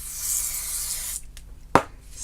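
Foam cleaner sprayed from a nozzle in a steady hissing burst lasting about a second, then a short pause and a sharp puff, close and clear with no talk.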